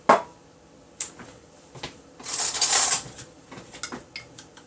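A spoon clinks and scrapes in a bowl while mushroom marinade of salt, pepper and oil is mixed, with scattered taps and a longer rattling stir in the middle.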